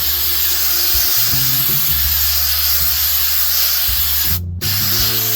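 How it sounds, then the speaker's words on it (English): Super 77 spray adhesive hisses from an aerosol can onto a model tree, a loud continuous spray lasting several seconds with one brief break before resuming, over a faint low musical backdrop. "But Super 77 spray adhesive, the good stuff, we're just going to spray it liberally."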